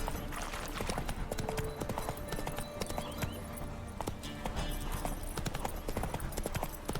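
Horse hooves clip-clop steadily and close in The Witcher 3: Wild Hunt, a fast continuous rhythm of hoofbeats that runs the whole stretch, with a brief neigh and some faint background voice.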